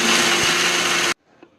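A mixer grinder jar whirs loudly as it grinds dried garlic into powder, a dense steady roar that cuts off abruptly after about a second, leaving only faint room noise and a small clunk.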